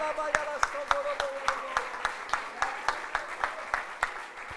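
A church congregation claps in a steady, even rhythm during a worship service, the beats loud and close, with voices mixed in around the clapping.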